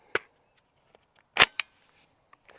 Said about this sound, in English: let's shoot a little bit and see how we do